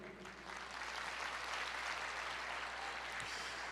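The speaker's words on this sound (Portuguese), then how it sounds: "Pode aplaudir." Church congregation breaks into sustained applause during a sermon, many hands clapping in a continuous, fairly full wash that swells after the first half-second and holds steady.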